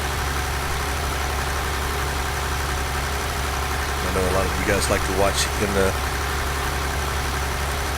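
A tractor engine in a farming simulator game idles with a steady low drone throughout, while someone talks over it partway through.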